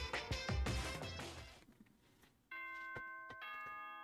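An announcement chime from the video game Danganronpa 2 plays: a bright, ringing multi-note bell melody fades out, then a sustained electronic chime tone enters with a few soft clicks, with no speech.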